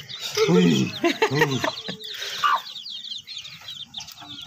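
Hen and chicks clucking as they are fed grain by hand, short close clucks and cheeps mixed with children's voices talking nearby.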